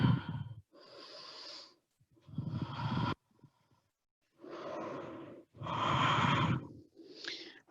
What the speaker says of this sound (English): And we breathe 5 times.